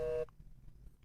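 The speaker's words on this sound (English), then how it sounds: "Oh, now it's busy." A telephone busy signal sounds as a loud steady tone that cuts off abruptly after a fraction of a second, leaving faint line hiss and a brief click at the end.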